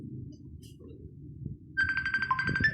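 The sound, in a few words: phone ringtone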